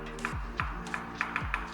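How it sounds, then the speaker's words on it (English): A camera slider's vertical motor module skips gears, giving a quiet motor whine broken by a regular series of sharp clicks and ticks. "it means the motor module is skipping gears"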